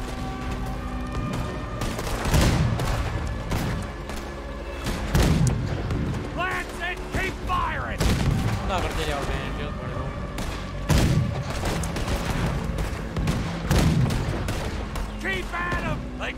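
Heavy cannon fire aimed at a boat during a Red Dead Redemption 2 gunfight, with several deep booms roughly every three seconds and scattered gunshots in between, while voices shout over the battle.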